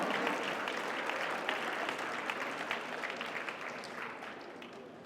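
An audience at an award ceremony applauds a prize winner, a steady wash of moderate clapping that holds for about five seconds and slowly tapers off.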